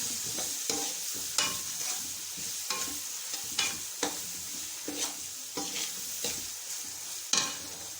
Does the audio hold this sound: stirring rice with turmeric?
yes